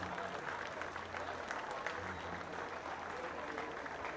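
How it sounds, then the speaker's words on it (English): An audience at a Hall of Fame recognition ceremony during a Townsville AFL senior finals event claps steadily and continuously, a dense, fairly distant wash of applause with no voices standing out. "Can we have a huge round of applause for these two great gentlemen?"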